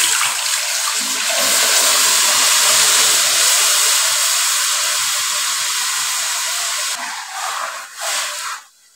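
Orange juice poured into hot melted sugar for homemade orange squash, giving a loud, steady steaming hiss that fills the whole stretch, then fades and sputters unevenly near the end. No voices.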